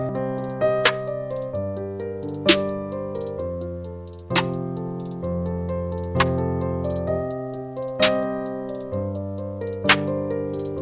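A looped trap beat in Logic Pro X with sharp, bright snare hits landing at regular intervals, each hit a snappy crack over sustained bass and chord tones.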